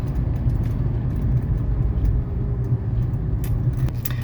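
A 1981 Mercedes 300SD diesel on a test drive, its engine giving a steady, loud low rumble with road noise inside the cabin and no speech.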